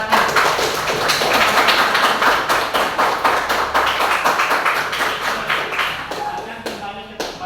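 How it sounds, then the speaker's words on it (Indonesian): A classroom group claps hands in applause, a dense, steady rattle of many claps lasting several seconds and tapering off near the end. "kalau sudah benar berikan aplaus, tepuk tangan"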